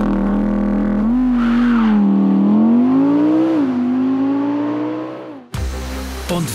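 An Audi R8's 5.2-litre V10 barks through a loud, rising and falling rev with a strong droning note, close by, followed by an abrupt cut and a brief burst of noise near the end.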